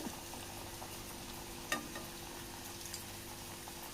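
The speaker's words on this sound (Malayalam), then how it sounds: "തിരിച്ചു മറിച്ചൊക്കെ ഇട്ട് നമുക്കത് ഫ്രൈ ചെയ്തെടുക്കാം" Iftar snacks frying in hot oil while being turned over, a steady soft sizzle with a few faint pops and clinks, fairly quiet and continuous.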